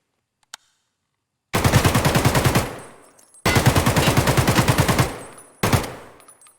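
Weapon test-fired in the Escape From Tarkov hideout: three loud, close bursts of rapid automatic gunfire, the first two lasting over a second each, the last one short, separated by brief silences after a single faint click.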